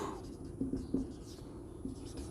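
Marker or chalk scratches and taps across a board during a physics lecture on fluid flow through a pipe: a few soft strokes and clicks, near and faint, over a quiet room hum with no speech.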